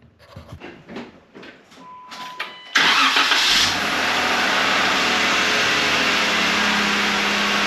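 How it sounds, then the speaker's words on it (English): A 2011–2013 Jeep 3.6 V6 cranks and catches at about 2.8 seconds, after a few faint clicks and handling noises. It then settles into a loud, steady idle that runs alone to the end. "we'll fire up the Jeep and see if it makes that noise"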